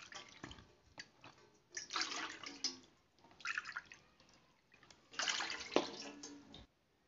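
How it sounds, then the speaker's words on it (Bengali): Water is poured by the bowlful into a cooking pot set on the stove, three splashing pours in bursts separated by short pauses, close and fairly quiet. "এবার ওই পাত্রতে এই বাটি মেপে 3 বাটি জল দেব।"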